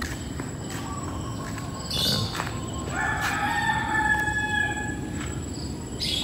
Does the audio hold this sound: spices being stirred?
no